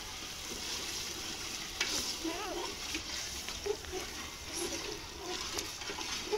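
Khichuri being stirred in a pot over a wood-fired stove on a rooftop terrace, a steady soft scraping and bubbling texture with faint sizzle running throughout at moderate distance.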